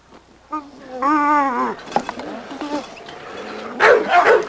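Pistola, a 17-month-old dog in a yard, gives a brief run of close yipping barks and a whine, followed by rustling and a later burst of barking.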